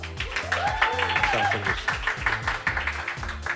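An audience applauds a band taking the stage at a live radio session, steady clapping under a strong rhythmic musical backing with a sung note drifting over it.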